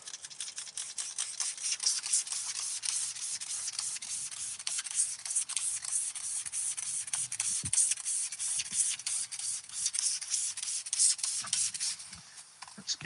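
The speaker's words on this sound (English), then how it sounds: "Let's give it a spray down." Pressure-washer spray hissing against the wheel arch of a BMW X135i during a deep clean, a close, steady sputtering rush with brief interruptions and a few knocks.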